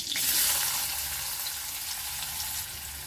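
Onion sautés in a pan with mustard seeds, a pinch of asafoetida and curry leaves, making a steady, even hiss of hot oil that stays moderately quiet and continuous throughout.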